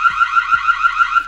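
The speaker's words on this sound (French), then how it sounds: "L'alarme, qui est pas extraordinaire, mais elle fonctionne. Activer les alarmes sonores." A Reolink Argus 2E security camera's siren sounds continuously, a loud, close, rapidly warbling electronic alarm tone with faint knocks beneath it.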